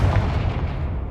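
A Confringo fire spell explodes in Hogwarts Legacy with a loud, heavy artillery-like boom, its deep rumbling blast sustained and then tapering off, with no talking.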